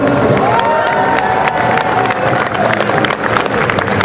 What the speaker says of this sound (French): Alors on a les équipes de Frogster, on peut les applaudir.